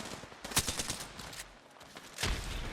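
Video game gunfire rings out in a scatter of sharp shots, one close loud crack, a brief lull, then another burst of firing.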